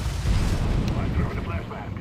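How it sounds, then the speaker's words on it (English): A flashbang grenade goes off in a tactical shooter game, a heavy low boom that rumbles and slowly fades over a couple of seconds, with players' voices talking over it. "I'm throwing a flashbang."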